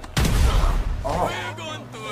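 Gunfire from a GTA video game as a person is shot: one loud, sharp blast with a short echoing tail, followed by a brief spoken voice over the game's background sound.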